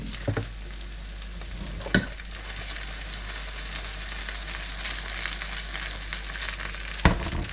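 Egg noodles (erişte) fry in oil in a pan, giving a steady, close, dense sizzle and crackle with a few sharp clinks from a spatula.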